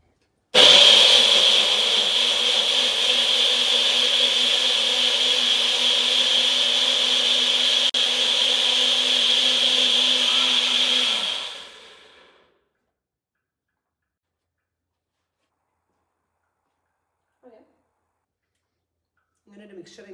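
A blender whirs a zucchini and pear mixture for chocolate muffin batter. It runs as a loud, steady motor roar for about eleven seconds, then cuts off into near silence with a couple of faint clicks.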